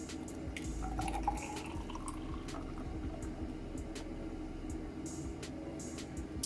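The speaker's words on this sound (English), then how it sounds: "let's pour some in" A beetroot drink pours steadily over ice with bubbling, dripping splashes over a low hum, close by and continuous, with no talking.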